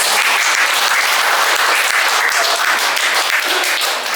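A church congregation claps for the Lord during a sermon, loud, dense, sustained applause filling the hall without a break and with no voices over it.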